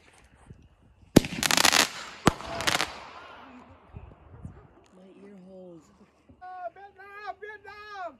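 Two sharp firework bangs crackle loudly at a birthday celebration, each followed by fizzing sparkle, then distant pops while voices chatter and exclaim nearby.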